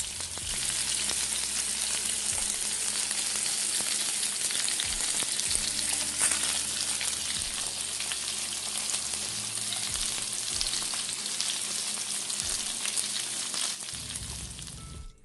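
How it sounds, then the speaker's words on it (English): Salmon fillets sear in a hot pan with a loud, continuous sizzle and crackle that holds steady throughout, with no talking. "I seared my salmon in a pan on both sides for about 5 minutes."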